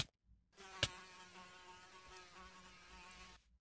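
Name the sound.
fly buzzing in the video game Minecraft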